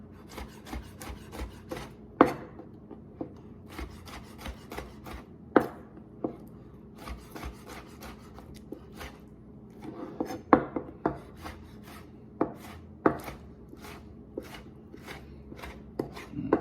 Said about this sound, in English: And then to these, you just go in, julienne them.